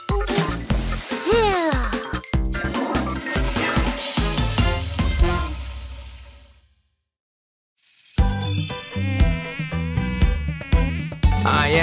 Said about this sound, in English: a mosquito. I bite and drink.